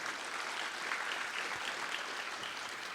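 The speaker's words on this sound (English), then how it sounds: "That deserves a round of applause" A crowd at a college convocation claps in praise of the school's goals. Even, dense applause holds steady throughout at moderate distance, with no voices over it.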